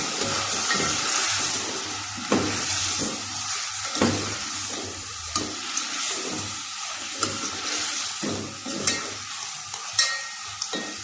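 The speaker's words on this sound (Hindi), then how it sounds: "ज़रा मैं चमचा हिला लूँ इसको" A spoon stirs garam masala in a sizzling pot for malai chicken, with a constant hissing fry and repeated scraping strokes close up, and no talking.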